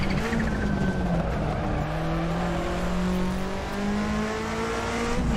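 A car engine revs and climbs through the gears while driving in the sim-racing game Assetto Corsa, a loud, continuous whine with shifting pitch and tire noise underneath.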